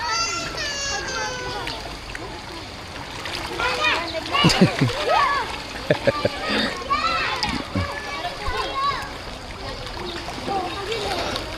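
Water splashes and sloshes in bursts as a child swims and plays, with a kid's voice chirping and calling out over the wet, choppy activity.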